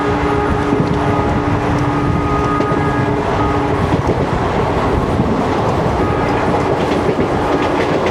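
A diesel-hauled 12467 Leelan Express passenger train running between Bikaner and Jaipur, heard from onboard as a steady, loud rolling rumble with continuous rail noise and clatter throughout.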